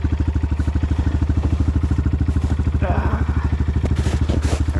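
A 2026 Honda CRF125F dirt bike engine chugging at low revs as the bike is muscled over a branch, a loud, close, steady rhythmic thump, with someone talking over it.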